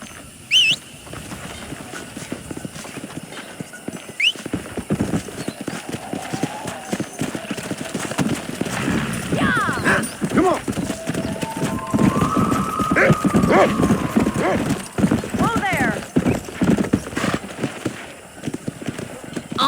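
Horses gallop in Red Dead Redemption, their hooves clopping in a fast, steady rhythm that grows louder as the ride builds, with a horse whinnying and voices speaking over it.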